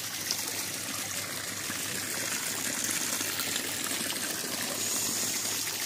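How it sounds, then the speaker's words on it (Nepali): Hot spring water pours in a steady, continuous stream, a soft, even gushing that carries on without a break and with no voices over it. "पानी आउँदैछ।"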